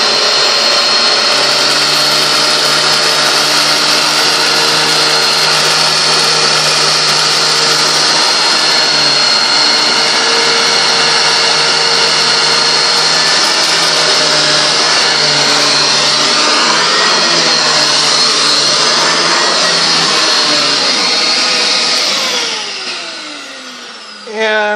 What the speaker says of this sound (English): just to show you the agitation effect, which you need to get the grit and sand from your carpeting